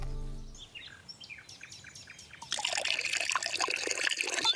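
Water runs and splashes steadily onto a stained dress in a cartoon, a bright, continuous trickling rush starting midway and following a run of chirpy, birdlike tones.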